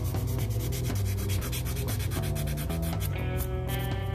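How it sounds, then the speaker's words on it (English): Plastic parts from an Italeri Porsche 928 model kit are sanded with 240 and 400 grit sanders, making close, rapid, continuous rubbing strokes over a steady tonal background hum. "we're going to go ahead and take our 240 grit sander. We're going to take our 400 grit."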